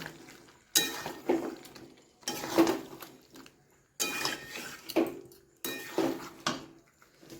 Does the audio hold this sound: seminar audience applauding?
no